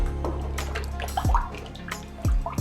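Cold water pours and splashes into a container in short bursts while mixing hair conditioner, with sloshing and a few drips between pours, close by.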